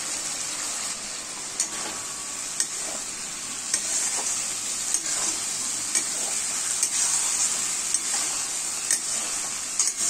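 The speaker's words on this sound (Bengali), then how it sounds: "এবার আমি ভাজা পটলগুলো মশলাতে দিয়ে দিচ্ছি।" Fried pointed gourd stirred into hot spice paste in a pan gives a steady, close sizzle, with intermittent scraping stir strokes every second or so throughout.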